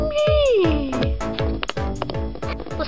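A pet cat meows loudly and close by, a long drawn-out falling cry followed by a series of short rhythmic bursts, with some background noise mixed in.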